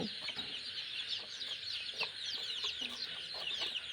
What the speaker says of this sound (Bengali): এই যে এইবিলাক মুরগি আমি ভাবছি কনির কারণে রাইখা দিব